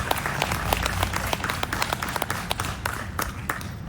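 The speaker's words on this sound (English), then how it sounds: "So please give yourselves a round of applause" A crowd of anti-war student protesters applauds at a rally, with dense, sustained clapping that stays fairly even and close throughout and a murmur of voices blended underneath.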